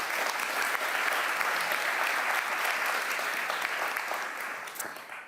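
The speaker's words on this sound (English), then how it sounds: "Can I have a round of applause?" Sustained audience applause at a panel discussion on inclusive and sustainable innovation, a steady wash of many hands clapping that holds loud throughout and eases off slightly near the end.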